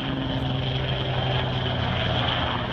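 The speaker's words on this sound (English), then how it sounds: "Helicopters flying over and shit." Helicopters flying overhead during an eclipse, a steady loud rotor and engine drone holding without a break, with no talking over it.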